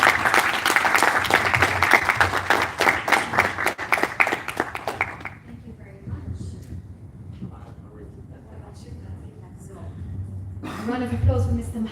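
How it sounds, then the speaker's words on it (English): Audience applause at an awards event, a loud round of clapping for about five seconds that stops suddenly, followed by quieter room sound and voices. "Round of applause for you guys who come on stage."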